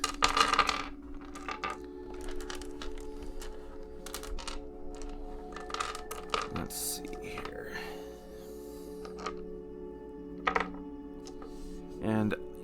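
Small dice tapped and set down one after another on a paper map, giving sparse light clicks and rattles at an uneven pace with quiet background noise and occasional speech.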